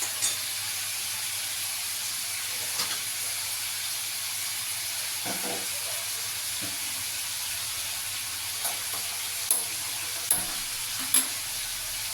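Prawns frying in a pan, a continuous close sizzle and hiss with occasional utensil clicks and scrapes, no talking.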